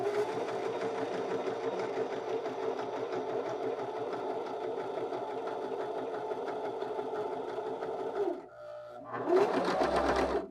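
A BabyLock Zeal BL35B sewing machine stitching fabric, its rapid mechanical whir running steadily for about eight seconds. It stops for a brief pause, then starts up again, close and clear with no talking.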